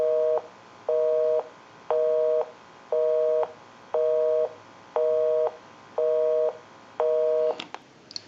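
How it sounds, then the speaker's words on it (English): A busy signal plays through a Western Electric 554 rotary wall telephone. The line gives eight even, loud tone bursts with regular gaps between them, then ends in a clatter of handling noise. "We'll call my number, and it'll be busy."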